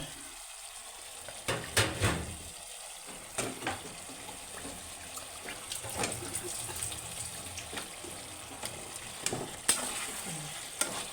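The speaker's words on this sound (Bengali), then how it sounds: "আমার বাইং মাছ কষানো হয়ে গেছে। দেখেন ভালো করে কষাতেছি।" Baim eel fish being sautéed and stirred in a pan, a soft continuous sizzle broken by repeated scraping and clattering strokes of a spatula, close and moderately quiet.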